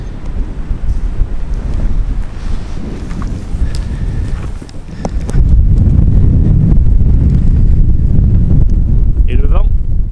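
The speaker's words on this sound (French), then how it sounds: "Le vent c'est bien levé." Strong wind buffets the microphone on a coastal cliff trail between La Ciotat and Cassis, a steady roar that grows louder and heavier halfway through, with no talk.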